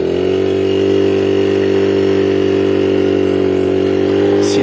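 A Yamaha Chappy LB50 moped engine drones steadily under load while climbing a steep slope, a loud, close, unbroken mid-pitched buzz that holds a constant note throughout.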